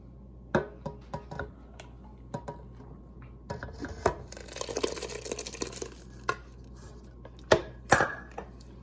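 Yogurt being mixed with onion and broth in a pot, sharp irregular knocks of a utensil against the vessel with a wetter stirring swirl in the middle, close and alone, without talk.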